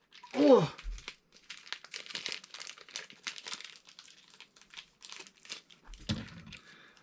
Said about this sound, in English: This is very difficult to open. It's plastic.